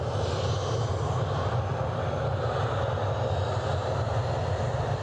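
Jet2 airliner's jet engines roaring steadily as it moves out, a loud continuous broadband rumble and whoosh that holds even through the whole stretch with no pauses.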